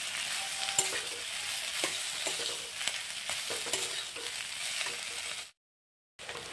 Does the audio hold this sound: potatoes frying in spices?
yes